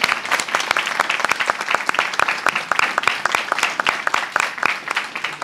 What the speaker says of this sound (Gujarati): અનિલ ચાવડા માટે ખૂબ તાળીઓ થવી જોઈએ.